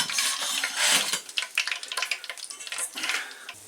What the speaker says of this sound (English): So they continue frying.